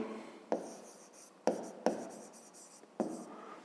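Pen or chalk writing out a 5th-grade math solution, four sharp tapping strokes followed by scratchy scraping, close and fairly quiet with no talk.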